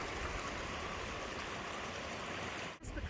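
A Highland burn in Glen Feshie, Scotland, rushing steadily over stones, a close, even broadband water roar that fills the whole clip, broken only by a brief dip near the end.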